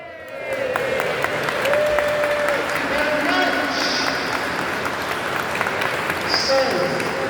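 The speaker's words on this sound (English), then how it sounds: "that wasn't a bad round of applause." A cathedral concert audience at Gloucester Cathedral applauds with a dense, sustained roar of clapping that fills the whole stretch, loud and reverberant.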